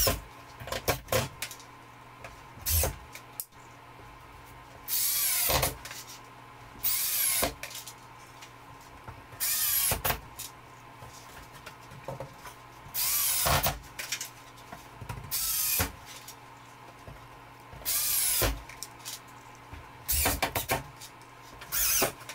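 A power drill drives drywall screws through pie-shaped drywall sheets into a dome ceiling, with a repeated pattern of short whirring bursts and brief gaps between them, moderately loud and close, with no talking.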